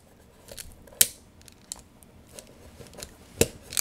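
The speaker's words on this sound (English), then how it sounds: "it's got a built-in wire cutter to remove it" A hand tool's built-in wire cutter snips copper wire, producing a few crisp, sharp clicks and snaps among softer rustling handling noises, close and fairly quiet.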